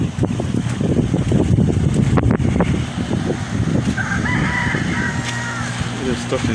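Chickens are heard outdoors at the seaside around sunset amid gusty wind rumbling the microphone, with a rooster crowing faintly partway through.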